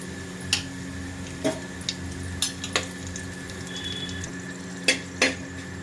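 Whole red chilies, cumin, cloves, cardamom and a bay leaf fry gently in a pan over a steady low sizzle, broken by scattered clinks and taps of a spoon against the pan, with no one speaking.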